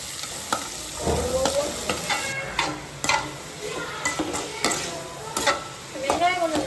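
Onions sauté in a pan, a steady sizzle punctuated by repeated sharp scraping and stirring clicks of a utensil against the pan, close and continuous.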